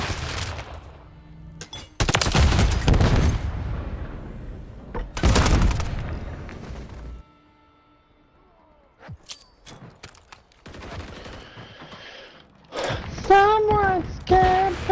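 Gunfire in a Call of Duty Modern Warfare III multiplayer match, with loud bursts of shots in two clusters, quieter scattered game sounds between them, and brief voices near the end.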